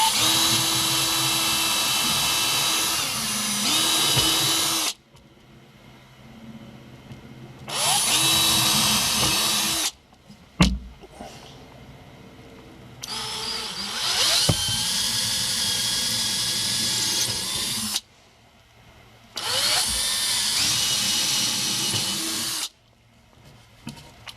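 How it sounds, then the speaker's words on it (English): A power drill boring holes into wooden awning cross beams, in four loud sustained bursts of several seconds each with quiet pauses and a sharp knock between them. "all right, so got all my holes drilled"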